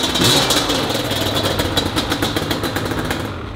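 A Yamaha Banshee 350 ATV engine idling nearby, a loud, steady mechanical drone with a rapid pulsing beat that holds level and eases off slightly toward the end.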